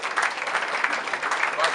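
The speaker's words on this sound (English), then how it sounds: "Let's give you a round of applause." Applause for a past president of an institute, welcomed as a guest at a day-one event, a steady dense round of clapping filling the whole short stretch at moderate level.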